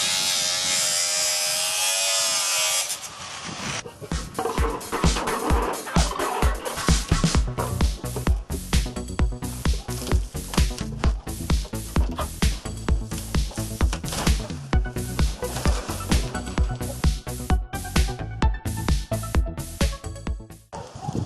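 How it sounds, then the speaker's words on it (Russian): An old boiler's metal casing is cut open with a power tool, giving a loud, continuous grinding whine with rapid pulsing bursts after a brief noisy start, up close and alone. "И после этого отрезаем обшивку вертикально с одной стороны."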